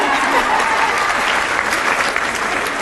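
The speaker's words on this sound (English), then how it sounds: "you all can clap." A crowd in an audience claps loudly and continuously, a thick wash of applause with faint voices mixed in.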